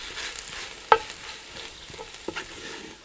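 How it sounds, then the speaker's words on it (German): Fish goulash ingredients frying in a Dutch oven make a soft, low sizzle, broken by a few sharp scraping clicks as the pot is stirred. "Und braten das noch einen kleinen Moment an."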